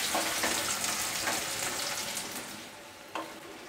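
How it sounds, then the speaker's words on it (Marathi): Chopped onion sautés in hot oil with cumin seeds, curry leaves and asafoetida in a pan for street-style chole samosa chaat, making a steady close sizzle with soft stirring scrapes and one brief clack near the end. "तेल तापल्याच्या नंतर यामध्ये आपण जिरं घालूया, कढीपत्त्याची पानं, हिंग, कांदा, थोडासा आपण कांदा आहे तो परतून घेऊया"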